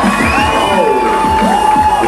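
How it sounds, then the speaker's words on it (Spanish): An outdoor crowd cheers and whoops loudly after a fire circus performance at a biocultural festival, with children's shouts mixed into the steady roar. "¡Un buen aplauso!"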